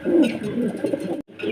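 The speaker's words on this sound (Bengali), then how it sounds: "একটা হল্যান্ডের একটা জ্যাকোবিন কবিতর রয়েছে অ্যালমন্ড কালারের ভিতরে মাদি কবিতর" A female almond-coloured Jacobin pigeon of Holland stock coos close by. Low, throaty burbling rolls on, with a brief pause before it resumes.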